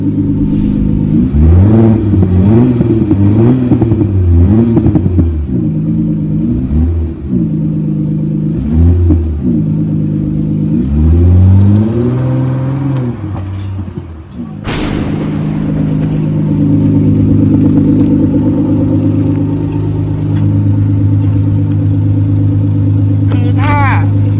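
A diesel BMW engine with a modified exhaust revs repeatedly in loud, throaty bursts, rising and falling in pitch, then settles into a steady rumbling idle.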